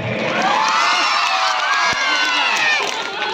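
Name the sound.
audience clapping and cheering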